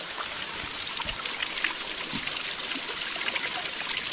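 Spring water trickling straight out of rock and splashing onto stone at an old mineral springs resort site, a steady close babbling stream with no talking.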